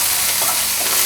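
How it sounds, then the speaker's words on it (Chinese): Corn kernels, coriander and curry leaves stir-fried in hot oil give off a loud, dense, unbroken hiss right up close, with the faint scrape of a spatula being tossed through it. "快速翻炒"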